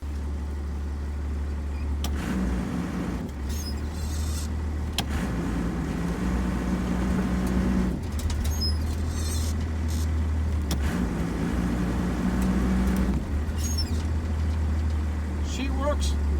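A Dodge truck, fresh from a brake master cylinder replacement, drives on a test run with steady engine and road noise heard from inside the cab, while someone talks now and then over it.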